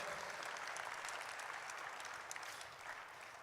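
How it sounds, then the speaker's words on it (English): An audience at a university press book launch on Guam gives a sustained, even round of applause, a dense wash of many hands clapping at moderate level, fading slightly toward the end. "round of applause for UOG Press and everybody involved in making that book."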